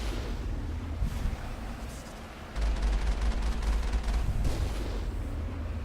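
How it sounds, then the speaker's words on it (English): Alliance heavy turrets in Mass Effect fire in sustained rapid volleys, a dense rumbling barrage that swells loud midway over ongoing game noise. "How'd they get their hands on Alliance heavy turrets?"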